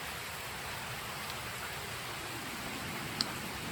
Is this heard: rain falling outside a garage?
yes